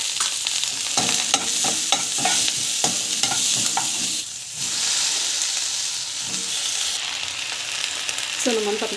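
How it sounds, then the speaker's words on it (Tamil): Onion and garlic sautéing in a pan with urad dal and chana dal; loud, continuous sizzling close by, with repeated spatula stirs and scrapes and a brief lull midway. "வெங்காயம் பூண்டு போட்டு ஸோ வந்து வதக்குவாங்க"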